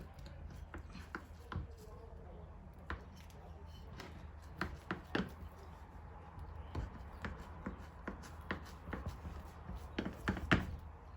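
A knife cuts set milk powder barfi into pieces on a board: a quiet, irregular series of sharp taps and thunks close by.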